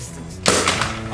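A paintball gun fires indoors inside a house as one sharp pop-like blast, followed by a brief rattling tail over a low background hum.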